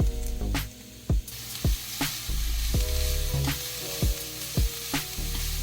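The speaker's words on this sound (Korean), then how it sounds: "기름을 두른 후라이팬에 김밥용 당근을 볶아줍니다." Julienned carrots for kimbap sizzle and fry in an oiled frying pan, a steady close hiss broken by several short scraping stirs, with no talking.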